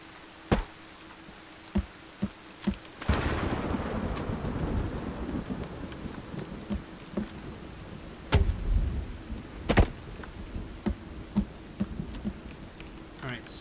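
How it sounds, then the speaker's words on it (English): Sons of the Forest survival game storm: steady rain patters throughout while a rolling thunder rumble swells early and another booms later, with sharp intermittent clicks and knocks scattered across the scene. "so we can get out of this rain"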